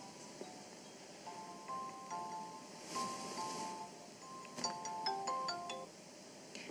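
Cell phone ringtone going off during an evening meditation session, a bright repeating electronic melody sounding in bursts over a quiet, hushed room with faint background murmur.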